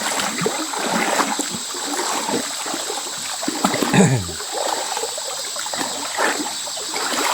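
A strong river flows with a steady, close rushing and trickling wash, with a brief louder splash near the middle and no talk over it.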